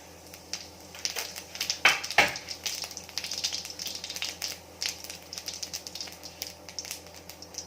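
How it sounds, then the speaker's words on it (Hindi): Cumin seeds crackle and sizzle in hot oil while cooking Odia aloo bhaja, a faint, steady spitting fry with scattered sharp pops, heard close up and without talking. "तो तेल गरम हो चुका है, तो मैं अभी इसमें जीरा डालूंगी।"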